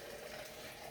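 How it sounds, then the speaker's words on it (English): Hot water splashes and swirls inside a malt extract tin as it is rinsed out during home brewing, a faint, steady liquid wash with no voices. "using a bit of hot water to wash out the"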